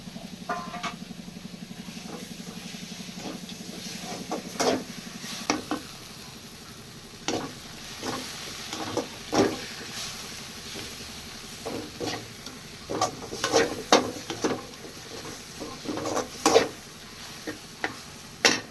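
Goat brain frying in a pan while being stirred, a low sizzle under repeated close scraping and tapping strokes of the spoon, no talk.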